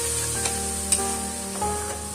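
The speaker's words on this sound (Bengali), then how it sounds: "মিক্সিং করে রাখা মশলাটা আমি দিয়ে দেব। দিয়ে আমি কষাতে থাকবো।" Spice paste fries in oil for a tangra fish curry with a continuous close sizzle, a low steady hum beneath and a couple of brief stirring knocks.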